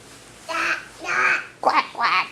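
A young child imitates a duck, giving several nasal quacks in two close pairs, loud and near, with a brief adult voice at the start.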